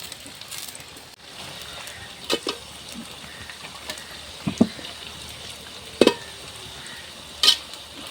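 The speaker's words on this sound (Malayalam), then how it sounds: "എണ്ണയ്ക്കകത്തോട്ട് ചക്ക അങ്ങ് ഇട്ട് കൊടുക്കുക" Jackfruit chips fry in hot oil over an outdoor fire, a constant soft sizzle broken by a few sharp pops and stirring scrapes, with no talking.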